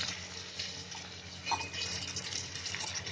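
Half a glass of water is poured into a pan of moong, matki and ivy gourd vegetables, a soft continuous splashing pour, fairly quiet, with a slightly louder gush partway through.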